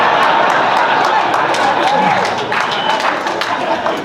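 Scattered, thin clapping comes from a few audience members at a comedy club, steady but sparse under some background chatter.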